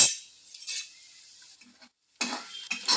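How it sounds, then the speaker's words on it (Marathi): Golden brown onions stirred in a metal pan, several distinct close scraping and clinking strokes of a spoon separated by quiet pauses. "आता चांगलं हलवून घ्यायचं परत."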